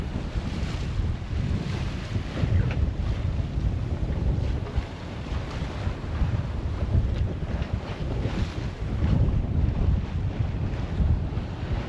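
A sailboat under sail in a 15-knot breeze on blue open water, with steady roaring wind over the microphone, water rushing along the hull and waves sloshing throughout, loud and continuous with no talk.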